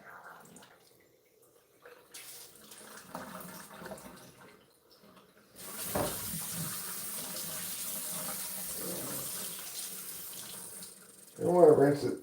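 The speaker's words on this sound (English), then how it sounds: "We want to rinse it thoroughly to make sure we get all the alcohol out of it." Water runs from a tap to rinse out a container, a soft splashing stream that starts quietly, swells into steady louder flow midway, then ends with a brief burst of sloshing.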